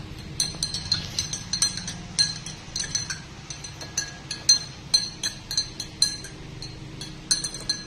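Food being mixed in a glass, with bright, rapid clinks of utensil against glass repeating in an irregular rhythm, close and clear over a quiet background, no talking.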